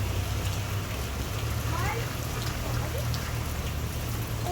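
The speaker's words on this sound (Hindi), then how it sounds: "तो इधर जी हो रही है बाहर बहुत ज़्यादा बारिश" Heavy rain pours outside a house, a dense, steady hiss of falling water with a low rumble beneath, constant and fairly loud throughout.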